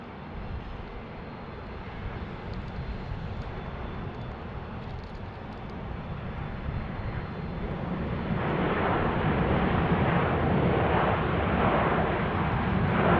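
An Airbus A330-900neo jetliner gives off a steady, loud engine rumble that builds and grows noticeably stronger midway, a sustained roar with no talk over it.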